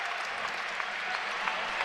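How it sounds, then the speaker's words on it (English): Basketball arena crowd at a Western Kentucky men's game applauding as players come onto the floor, a continuous wash of clapping and crowd noise, moderately loud and steady. "Cozart and Hamilton get a big applause coming out"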